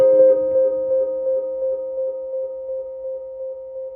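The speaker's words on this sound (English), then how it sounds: "It's like a trail off, like echo type thing" Output of a PT2399-based delay pedal from Ideka Electronics: a steady sustained tone carries on alone as faint repeating echoes fade and trail off behind it, with a soft rhythmic pulsing in the level.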